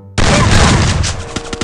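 Gunfire in the mobile shooter Free Fire bursts in loud and close, a dense run of shots with sharper cracks near the end, mixed with a voice talking.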